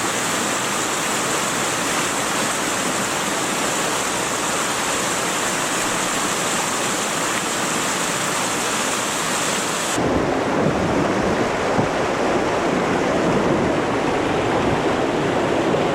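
River white water roaring continuously around a surfing canoe on a river wave, a dense, loud rushing wash that shifts in tone partway through, with no voices.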